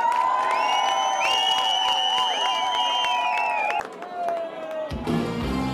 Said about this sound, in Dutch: Met dank, een groot applaus